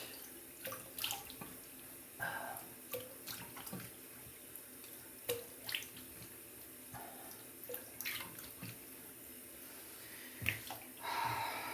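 Water splashes intermittently while rinsing a face after a double-edge safety razor shave at a sink, with quiet, close bursts of running and splashing water spaced every second or two.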